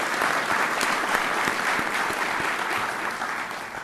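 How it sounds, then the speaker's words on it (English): An audience at a high school sports awards ceremony applauds steadily and densely throughout, with many hands clapping at once and no speech over it. "A big round of applause for Zach Fester, Steelville Golf."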